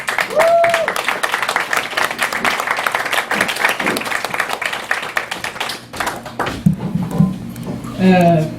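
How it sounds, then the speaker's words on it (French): Audience applause in a bar during a slam poetry evening, a crowd clapping steadily at close range while voices and cheers mix in, tapering toward the end as a dog barks briefly. "Une bonne main d'applaudissements, s'il vous plaît."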